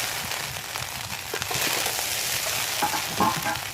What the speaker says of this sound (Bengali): বেশ ভাজা ভাজা হচ্ছে আওয়াজ হচ্ছে উল্টে পাল্টে তুলে নেবার হয়ে গেছে